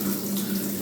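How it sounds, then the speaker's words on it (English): Steady, close rush of water pouring from a waterfall-style tub faucet on a freestanding tub, a continuous even stream with no pauses. "very good, decent water stream."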